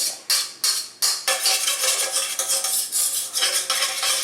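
Pulled beef for rolled tacos is scraped out of a container into a skillet, with a few sharp utensil clacks at the start, then continuous close scraping and clattering of metal against the pan, with no talk.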